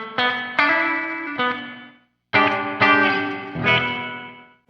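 Electric guitar chords played through a Donner Verb reverb pedal, struck in several separate hits, each ringing out with a long decaying tail, then a short pause before more chords, close and loud.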